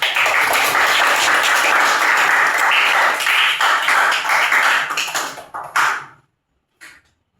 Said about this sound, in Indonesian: mari kita berikan tepuk tangan buat teman-teman kelompok 1